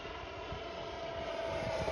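A CMFC XFLY Alpha Jet 80mm model jet running at around half throttle, giving a steady, continuous whine and rush of moderate loudness throughout, with no talk.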